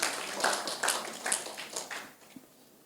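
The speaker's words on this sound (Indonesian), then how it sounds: "Kasih tepuk tangan dulu buat Tuhan." A church congregation gives a short burst of applause during a sermon. Several loud waves of clapping come close together, then fade away within about two seconds.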